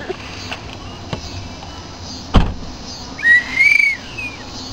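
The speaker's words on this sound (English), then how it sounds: "Is that your rape whistle?" A sharp bang, then a shrill safety whistle blown twice in quick succession, loud and close, with no talking.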